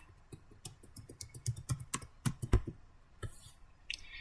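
Someone types on a computer keyboard to log in, a quick run of close, crisp key clicks with a heavier thump near the middle, one firm press at the end and a brief gap before it.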